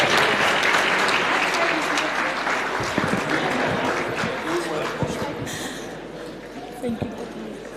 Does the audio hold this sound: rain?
no